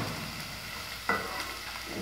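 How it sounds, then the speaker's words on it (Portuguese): Onion and garlic fry in a pan for chicken stroganoff, a steady low sizzle with a brief stirring scrape partway through. "A cebola já tá fritando"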